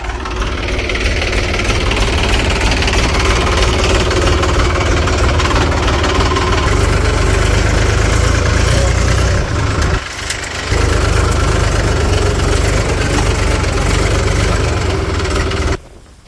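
A tractor engine runs loud and close with a steady knocking idle. It dips briefly near the middle, resumes, then cuts out at the very end, with no voices.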